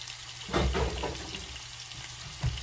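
Meatballs sizzle steadily in a pan for low carb spaghetti, with a louder scrape and sputter early on and another brief one near the end as they are gently turned with a little spatula.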